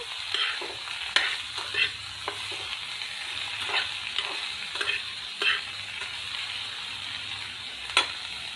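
Okra pieces fry with salt and turmeric over a medium flame, giving a gentle continuous sizzle with occasional stirring clicks and scrapes in the pan, close and steady without speech.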